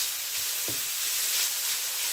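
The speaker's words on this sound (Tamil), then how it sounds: "இப்போ இஞ்சி உள்ளி சேர்த்துக்கொள்கிறேன்." Grated ginger and garlic fry in a pan for spicy vegetable fried rice, a steady broad hiss of oil with one brief clack near the start, close and without talk.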